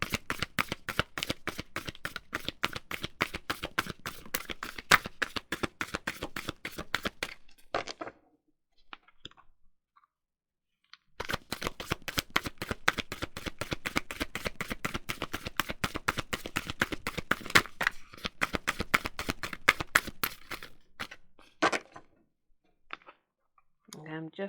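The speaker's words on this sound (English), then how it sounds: "just going to do one more shuffle." Tarot cards being shuffled in rapid riffling bursts of crisp clicking flicks, close and fairly loud, with a brief pause midway before a second long shuffle and a few scattered taps near the end.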